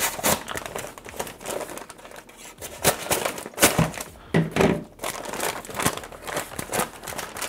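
Blades cut into the foil-lined paper bag of a 2011 Canadian MRE meatloaf with cabernet sauce meal, giving a dense run of close crinkling, crunching and tearing rustles with no talk.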